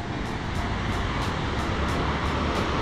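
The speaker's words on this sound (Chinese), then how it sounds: "然后这里听得到那个瀑布的声音" Kegon Falls in Nikko, hidden from view by thick fog, gives off a steady, unbroken roar that fills the whole clip like a dense wash of rushing water, with no voices.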